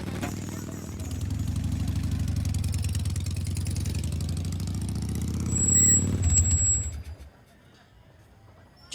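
Motorcycle engine running close by with a steady low drone, swelling briefly near the end before cutting off and leaving near silence.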